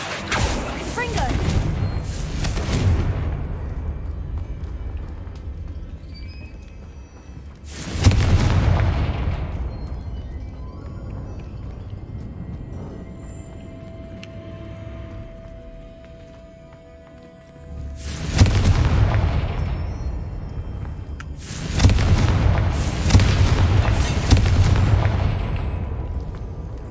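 Confringo blasting spell in Hogwarts Legacy, several loud booming explosions that decay slowly, separated by quieter stretches of game ambience.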